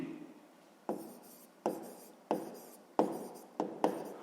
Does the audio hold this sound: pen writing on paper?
yes